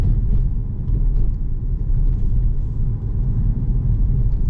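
A Fiat Fastback Impetus rolling over a potholed street, with a continuous low suspension and road rumble filling the cabin and small bumps along the way, and nobody talking.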